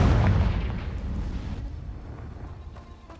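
A Confringo blasting spell explodes in the Hogwarts Legacy video game, a loud deep boom at the start that rumbles and slowly fades into a dull roar, with no talking.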